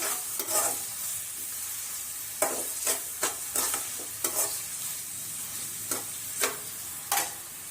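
Chopped onions sizzle steadily in a hot pan while a spoon scrapes and stirs at irregular intervals, close and fairly quiet, with no talking.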